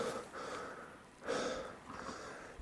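A hiker breathes heavily while climbing a mountain trail at Battle Mountain, with about three loud, rough breaths close to the microphone and brief pauses between them. No one speaks.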